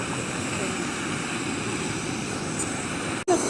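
A camping stove burner running at full blast gives a steady, fairly quiet hissing roar like a distant jet, unbroken until a brief click near the end.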